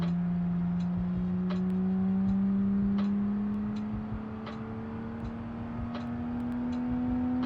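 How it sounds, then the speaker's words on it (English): A truck engine running without a muffler in a video game, a steady droning tone that climbs slowly in pitch as it revs up, with faint ticking clicks scattered over it and no voices. "Although it's a bit louder than before, probably because it doesn't have a muffler no more."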